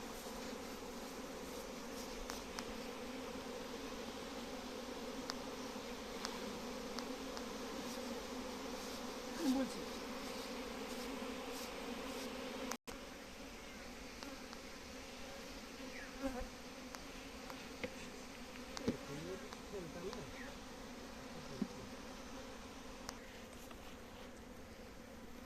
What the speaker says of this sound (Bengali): মধু মনে হচ্ছে ভালো এনেছে মাছিতে।